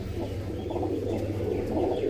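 Hobby pigeons at a loft, a steady low cooing murmur of several birds holding close and fairly loud throughout, with faint chirps over it and no talk.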